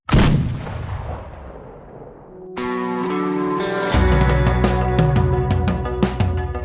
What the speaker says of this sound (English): It is a 7-barreled volley gun, essentially 7 muskets welded together.